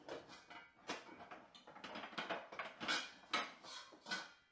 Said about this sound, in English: there are 4 different sounds for pots, pans, and oven doors clanging about.